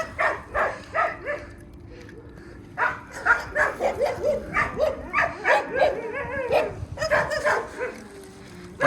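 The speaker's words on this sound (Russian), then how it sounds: "уже все гавкают на тебя" Dogs barking at a wolf cub: a rapid series of sharp, close barks and yips in quick bursts, with brief pauses between runs and some whining mixed in.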